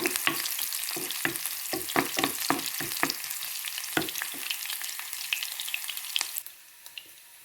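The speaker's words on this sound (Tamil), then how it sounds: "ரெண்டு உள்ளி வெட்டி வச்சுருக்கிறேன் அதையும் பொறிச்சு விடுவோம்" Chopped garlic frying and being stirred in a pan of hot oil after beetroot, a steady sizzle with frequent scraping stirs throughout, loud and close, dropping to a quieter sizzle near the end.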